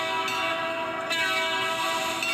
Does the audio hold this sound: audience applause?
no